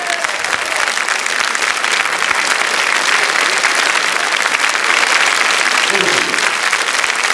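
A street crowd in Paris claps for a street surfer arriving in front of the Empire, a steady, dense and fairly loud round of applause that continues without pause.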